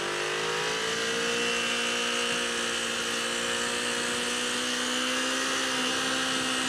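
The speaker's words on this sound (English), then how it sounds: "I'm currently riding a 2007 Ninja 250." A 2007 Kawasaki Ninja 250 motorcycle drones steadily while being ridden, its engine whine holding an even pitch that rises slightly, with constant wind noise throughout and no talk.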